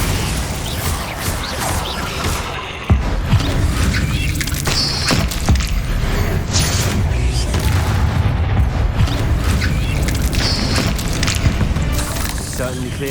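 Spell explosions such as Bombarda from the video game Hogwarts Legacy, a series of booming blasts and crashes with cracking impacts over a continuous roar of combat, with a voice talking over it.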